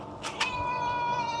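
A noisy cat in a home recording studio lets out two quick, close meows, followed by a steady electrical hum with no one speaking.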